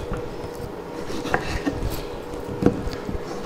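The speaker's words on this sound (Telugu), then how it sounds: "ఇప్పుడు టమాటాలు కట్ చేసుకుందాం." A knife chops tomatoes into small pieces on a board for a traditional tomato curry, with a few sharp taps spaced irregularly over faint kitchen background.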